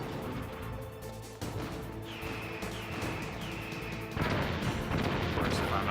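Missile explosions in Metal Gear Solid, heard as booms and crashes at moderate loudness among game sounds, with a few whistling tones and a heavier blast near the end.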